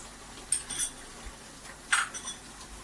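A spoon clinks twice against a pan while white chicken korma is mixed with lemon juice, with short metallic taps separated by a pause over a faint background.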